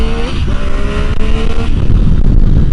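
A Triumph Tiger 800XC with an inline triple engine accelerates hard from 25 to 80, its loud, close engine note climbing in steady gear-held sweeps over heavy wind rush.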